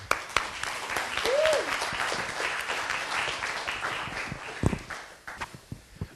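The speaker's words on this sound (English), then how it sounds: "So big round of applause," Lecture hall audience applause, a sustained spread of clapping from a crowd that thins toward the end into scattered claps and shuffling, with a brief squeak partway through and no talk.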